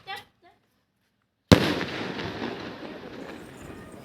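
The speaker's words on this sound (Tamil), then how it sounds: "இது வந்து 2 இன்ச் ஃபேன்சி. இதைத்தான் நம்ம முதல்ல டெஸ்ட் பண்ணி பார்க்க போகிறோம்." A 2-inch fancy firework shell from a box of Sivakasi crackers is test-fired outdoors. After a moment of quiet and a brief voice, one sharp, loud blast is followed by a long rumbling, crackling tail that slowly fades.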